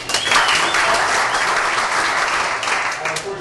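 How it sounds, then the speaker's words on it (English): An audience bursts into loud, sustained applause mixed with a few cheers. It swells early, then holds steady before easing off slightly. "By applause."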